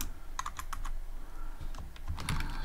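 Quick clusters of clicking keys from a computer keyboard, typing close up in short bursts with brief pauses, alone with no voice over it.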